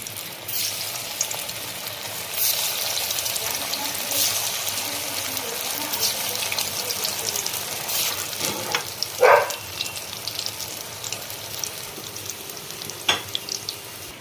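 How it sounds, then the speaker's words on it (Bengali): Soya kofta balls fry in hot oil with a steady, moderate sizzle and crackle throughout, a few brief scraping or stirring touches breaking in near the middle and end. "দ্বিতীয়বার বলগুলো দিচ্ছি।"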